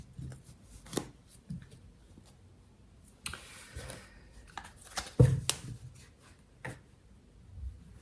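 Tarot cards are shuffled and handled in quiet, soft bursts, with brisk riffling and scattered light clicks and taps close by.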